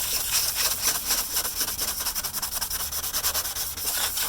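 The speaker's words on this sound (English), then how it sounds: "Maybe we won't buff it, just sand it." Hand sanding a custom vehicle badge with fine 400-grit sandpaper: a continuous, close, gritty scraping in steady back-and-forth strokes, moderately loud and uninterrupted by talk.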